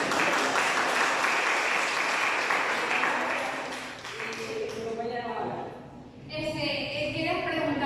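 Audience applause after a talk on conflict management, a full burst of clapping for about four seconds that thins out as a speaker begins talking.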